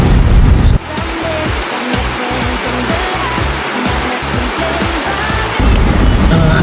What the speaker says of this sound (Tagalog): Kasi sobrang lakas talaga ng ulan.